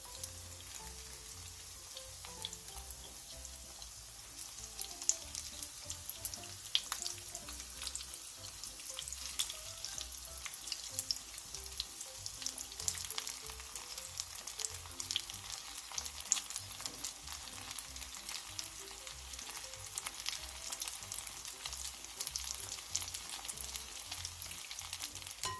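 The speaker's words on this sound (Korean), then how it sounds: "먼저 어묵꼬치에 계란물만 입혀준 뒤 팬에 올려 중약불에서 앞뒤로" Egg-coated fish cake skewers fry in a pan over medium-low heat, giving a steady, close sizzle and crackle with scattered spitting pops throughout, no voices.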